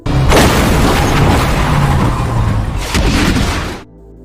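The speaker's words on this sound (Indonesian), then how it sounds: "setelah ledakan" A loud explosion from an action film set in a bar shootout, a broad booming roar sustained for several seconds with a second burst near the end before cutting to quiet.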